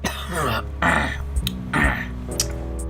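A person coughs and clears their throat in a few rough, throaty bursts, close and moderately loud, with brief pauses between.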